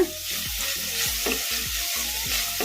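Spinach and green chilies frying over a medium flame for a buttermilk sambar, a continuous close hiss with regular scraping stirs of a spatula every half second or so, and no talking.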